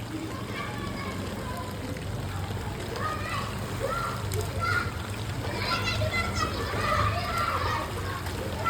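Children's voices and splashing water mix together in a noisy, continuous scene of kids playing in waist-deep flood water in a housing society in Surat, with steady background noise throughout.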